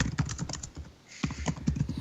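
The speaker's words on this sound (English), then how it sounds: "who's typing?" Rapid clicking of a computer keyboard being typed on nearby, in quick bursts of keystrokes with a short pause in the middle, heard alone without talk.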